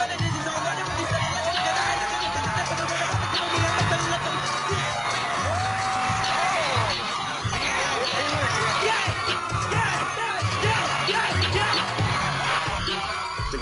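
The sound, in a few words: crowd cheering and yelling at a live performance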